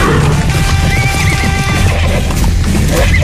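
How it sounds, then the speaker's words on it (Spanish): Horses neigh and whinny as a staged audio-drama effect in a Don Quijote radio adaptation, loud repeated calls over a clattering background of hooves and battle-like noise. "¿No oyes el relinchar de los caballos, el tocar de los clarines, el ruido de los atambores?"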